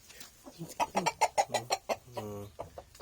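Rhode Island crossbreed breeder chickens cluck in a quick run of rhythmic calls close by, ending in a longer drawn-out cluck.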